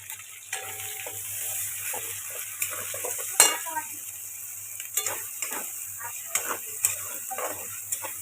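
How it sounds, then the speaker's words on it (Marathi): Masala stirred and roasted in a pan while a paneer curry is cooked at home: a faint, steady sizzle broken by scattered spoon scrapes and clicks against the pan, with no clear talk. "लाल होईपर्यंत चांगला मसाला भाजून घ्यायचा म्हणजे चव पण चांगली लागते"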